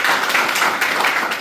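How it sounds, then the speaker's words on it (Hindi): A short burst of dense audience applause at an Indian school or community event, many hands clapping together in a steady, loud wash with no voices above it. "जोरदार तालियां बजा दीजिए।"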